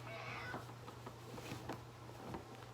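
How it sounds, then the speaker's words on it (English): A foster cat meowing insistently indoors, a few short faint cries over a low steady hum. "My foster kitty Alice is yelling at me right now."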